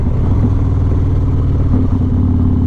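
A Harley-Davidson Road Glide with an M8 engine and an S&S 475 cam runs loud and close, a deep, rough, throbbing drone that holds steady with a slight shift in pitch partway through.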